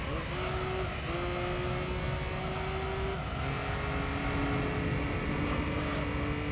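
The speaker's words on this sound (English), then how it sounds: "This car sounds like a lawnmower." Race car engine in Gran Turismo 3 drones with a thin, buzzy tone, pitch climbing steadily and dipping at a couple of gear changes, steady and close.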